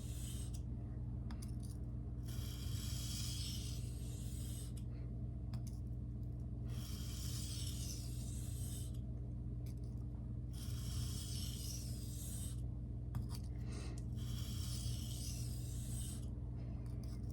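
Freehand sharpening of a ProCut steel knife blade on Shapton Glass and Naniwa whetstones: rhythmic rasping strokes sweep back and forth in repeated bursts with short pauses, close and steady over a low constant hum.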